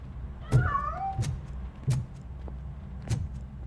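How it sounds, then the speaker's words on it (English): Cat meowing in RoboCop: Rogue City, a few short distinct meows with a rising, then falling tone, heard over low game ambience and soft clatter as the animal slips away. "That cat must be hiding inside."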